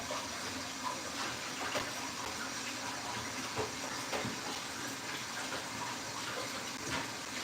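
Water from a running kitchen tap pours steadily over a pot being rinsed, a continuous faint gushing wash with small clinks, heard alone at low level.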